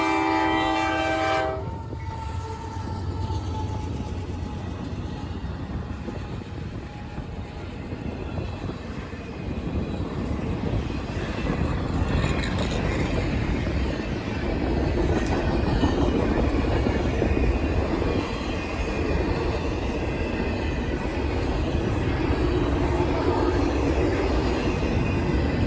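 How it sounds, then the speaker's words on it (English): A Norfolk Southern manifest freight train led by a pair of NS C6M locomotives pulls out of a rail yard, with a brief horn blast at the start, then a long, loud, steady rumble of engines and rolling cars. "We were just in time to catch Norfolk Southern 15Q pulling out of Blair Yard with a couple of NSC6Ms"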